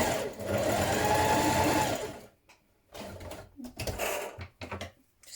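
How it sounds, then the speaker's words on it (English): A sewing machine runs steadily for about two seconds while stay stitching around the neckline of a vintage bow-tied blouse, then stops and restarts in several short bursts. "So let's do our stay stitching and make our darts first of all. I'll just stitch around that neckline."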